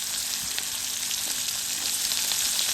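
Chopped onion, carrot, ginger and green chilli fry in oil for a broken-rice upma, giving a dense, even hiss that holds steady and loud throughout with no voice.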